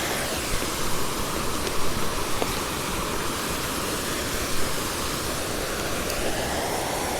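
A forest waterfall pours in a steady, dense broadband rush, constant and fairly loud throughout with no voices.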